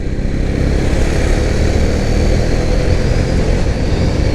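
A 2021 KTM Duke 390 BS6 motorcycle being ridden hard, its engine roaring loud and steady throughout with constant wind and road noise, no voices.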